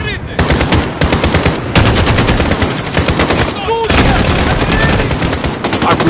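A minigun fires in Call of Duty Modern Warfare, long loud rapid bursts of gunfire with brief pauses between them and a faint chiming pickup-like blip partway through.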